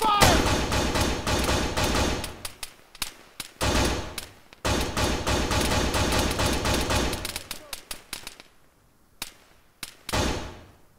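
Heavy sustained gunfire in Arma 3 combat, loud rapid machine-gun bursts with sharp staccato cracks continuing in long runs, broken by brief pauses and a quieter stretch near the end before another burst.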